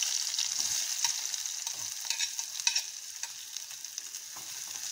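Onions sautéing in hot oil with cumin seeds, a continuous bright crackling sizzle with faint scrapes of stirring, close and even throughout, no one speaking.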